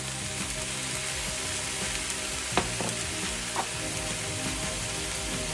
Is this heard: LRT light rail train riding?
no